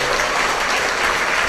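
A church congregation at a Kripasanam worship service claps in praise, a brief, dense burst of many hands clapping together, loud and close.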